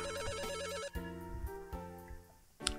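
A video game telephone in Kitty Love rings with a bright electronic ringtone, a looping beeping melody played continuously and clearly, with no voices over it.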